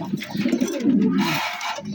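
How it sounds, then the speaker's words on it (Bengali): Pigeons coo nearby on a rooftop garden in low, throaty, rolling calls, one continuous burbling phrase after another. "এখানে আবার গিলবেস কবুতর ডাকাডাকি করতে আসছে"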